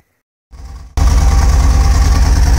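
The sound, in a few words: Mercedes engine misfiring, running irregularly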